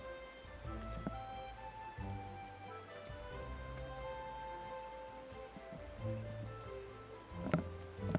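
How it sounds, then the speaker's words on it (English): Rain falls steadily in Final Fantasy XIV, a soft continuous patter of drops on surfaces beneath a sustained, layered game music bed. No one speaks over it. "It's raining."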